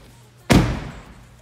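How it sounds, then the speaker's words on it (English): A single solid slam of a 2018 Ram 1500 pickup truck door, sharp and close, with a short boomy decay afterward. "what it sounds like when we close the door"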